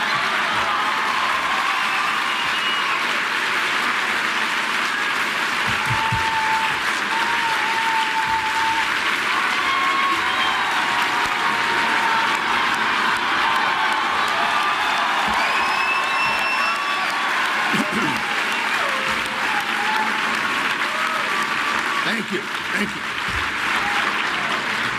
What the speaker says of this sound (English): those of you watching at home may wonder why this is being applauded